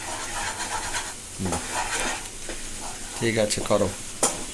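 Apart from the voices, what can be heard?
food frying in a pan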